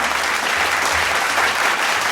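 A thick, continuous burst of crowd applause plays as a sound effect, loud and even from start to finish, with no speech over it.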